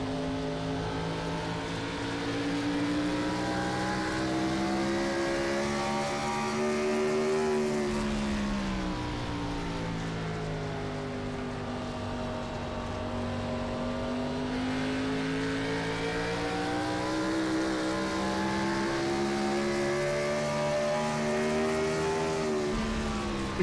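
Retro race cars circling the track at Phoenix, a loud sustained engine roar with droning harmonics that rise and fall as cars pass in a tight pack, continuous and near throughout.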